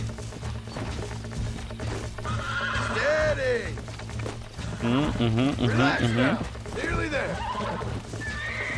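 Horse whinnying repeatedly with clip-clopping hooves in the Western video game Red Dead Redemption, loud neighs rising over a continuous hum of game ambience.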